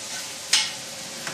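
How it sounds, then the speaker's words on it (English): Beef sautéing in a pan for vegetable beef soup, a soft steady sizzle with one sharp stir or scrape and a fainter second one moments later. "our beef is getting a nice golden saute, starting to caramelize nicely now"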